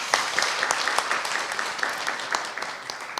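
An audience applauds at a Korean talk concert on national research institutes and entrepreneurship, a moderate crowd clapping with distinct individual claps audible through the steady patter.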